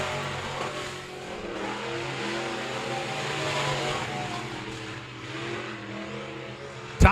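Race cars in an enduro race at Monett Motor Speedway roar past in a continuous loud engine drone that rises and falls as they circle the track, ending in a sharp bang.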